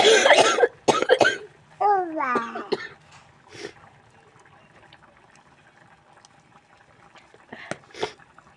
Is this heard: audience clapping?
no